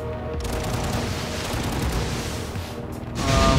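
Rapid gunfire and booming impacts fill the Katana Zero video game action, a dense, continuous barrage at steady loudness that swells louder at the end.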